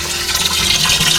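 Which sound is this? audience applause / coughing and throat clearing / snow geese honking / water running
water running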